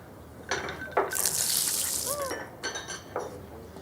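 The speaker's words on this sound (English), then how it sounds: "And she pours a pitcher of ice water down the front of his pants." A pitcher of ice water pours in a film scene, a bright splashing rush with clinking ice and glass across the middle, framed by short knocks and clatters before and after.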